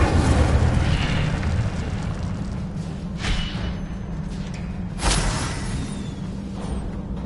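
Incendio fire spell cast in Hogwarts Legacy, a roaring burst of flame with a rushing whoosh, followed by a couple of further bursts over a sustained fiery rumble.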